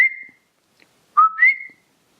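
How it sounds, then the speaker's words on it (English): A coqui frog in Puerto Rico gives its whistling call: one short tone, a pause, then a clear two-note rising "co-qui" whistle, near and alone against silence. "that's just kind of the famous, you know, coqui noise"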